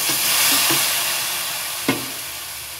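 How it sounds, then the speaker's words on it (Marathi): Whisked yogurt sautés in a pan for a vegetarian masoor (lentil) biryani, giving a steady close sizzling hiss with a few soft stirring taps and one sharper scrape near the end. "आता हे दह्याचा सगळा कच्चापणा जास्त आपण परतायचं।"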